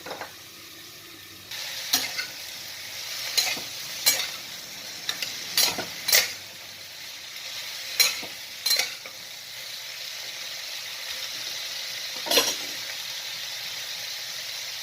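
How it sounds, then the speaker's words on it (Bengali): Pointed gourd and potato dry curry sizzles steadily in a pan, with a run of sharp spatula scrapes and stirs breaking through at irregular intervals, close and fairly loud, no voices. "আবার নাড়াচাড়া করবো এমনি করে একটু ভাজা ভাজা করে দেবো"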